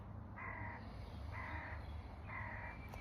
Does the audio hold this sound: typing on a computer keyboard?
no